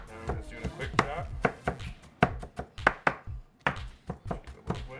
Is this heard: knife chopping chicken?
yes